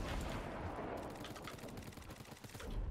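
Infantry rifle fire in Fortnite: a dense, faint run of rapid shots and crackling impacts throughout, blurred together with distant rumbling game noise.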